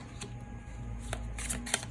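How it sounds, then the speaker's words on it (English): A deck of tarot cards is riffled and shuffled in quick, close papery bursts, several crisp flurries over a soft steady background hum, with no talking. "Okay, let's shuffle again. These are too many cards."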